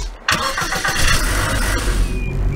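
A car engine starting in Garry's Mod, a short crank followed by the engine catching and settling into a steady mid-pitched idle, loud and close, with no voices over it.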